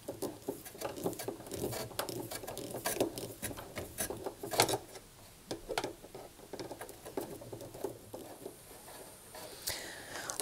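A screwdriver loosens the inner hose clamp on a Candy washing machine, giving close, irregular ratcheting clicks and small metallic taps, with brief scraping over a quiet background.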